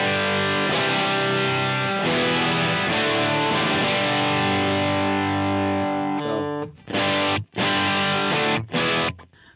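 Distorted, gritty electric guitar tone from a Stratocaster, sustained overdriven chords played loud and up close, ending in a few short choppy stabs.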